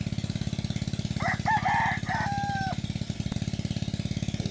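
A rooster crows once over a loud, rapid mechanical chugging, like a running engine that pulses throughout.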